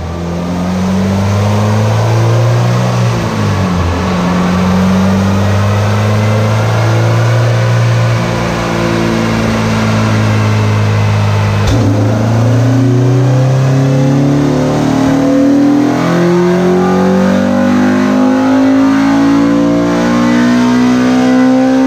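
A stock Honda Integra GSR engine revving on a dyno, loud and continuous, with the engine note sweeping up and down in pitch.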